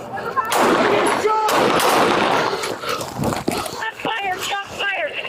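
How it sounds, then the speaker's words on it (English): Gunshots ring out during a police confrontation, loud and close with a harsh blast at the start, mixed with shouting voices and a barking dog. "Shots fired, shots fired."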